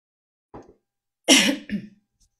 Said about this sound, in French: je bois un coup parce que je vais tousser